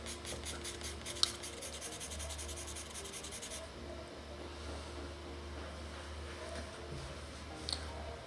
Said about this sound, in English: And then I'll use the little mixing tool, the little paper blender.